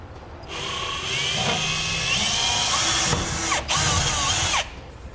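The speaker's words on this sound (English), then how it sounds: "I'm going to drill straight through going up into the bed." A power drill whirs steadily at close range, bogging and surging as it bores up through the metal bed of a Ram truck, with a short pause before it spins up again.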